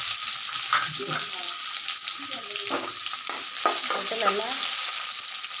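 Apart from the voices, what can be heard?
frying chopped onions with mustard seeds and curry leaves in oil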